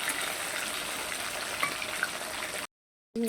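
Pomfret fish sizzle in hot oil in a pan with a steady, close crackling hiss, then cut to silence near the end.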